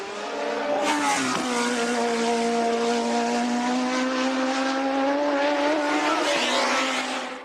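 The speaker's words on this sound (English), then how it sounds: "So the second Renault pit stop, he keeps the engine revving." A 1983 Renault Formula 1 car held at high revs through a pit stop, its loud, steady engine scream continuous for the whole stretch, with a brief dip in pitch early on and a slight climb near the end.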